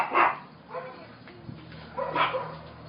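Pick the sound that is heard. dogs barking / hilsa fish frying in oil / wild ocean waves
dogs barking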